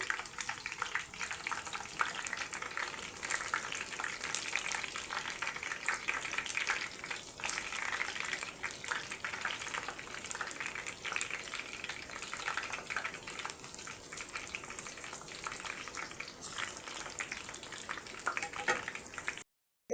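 Brinjal pieces frying in a covered pan give a steady, soft hiss and crackle that runs evenly throughout, fairly faint and close, with no talking over it.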